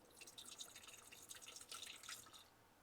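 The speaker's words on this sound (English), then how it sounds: "You're going to pour about half of this bottle into your water reservoir." Breville descaling solution poured into the water reservoir of a Breville Barista Express espresso machine, a faint, close trickle with small splashes and drips, no talking.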